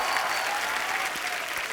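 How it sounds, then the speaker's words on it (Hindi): A crowd applauds steadily with dense, continuous clapping that holds at an even level throughout. "आप सबकी जोरदार तालियों के बीच"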